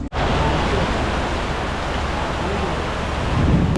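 Steady, dense roar of heavy rain fills the whole stretch, loud and unbroken, with a low rumble swelling slightly toward the end.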